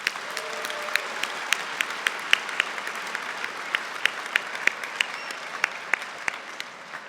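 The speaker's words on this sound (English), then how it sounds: "let's give them a special round of applause, shall we?" A graduation convocation audience claps at a polytechnic ceremony, a moderate, even patter of many hands with scattered sharper individual claps standing out, heard from a distance in a large hall.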